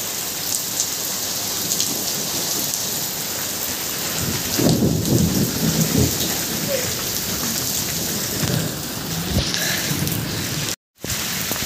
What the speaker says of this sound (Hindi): बहुत मस्त है ठंडी ठंडी बारिश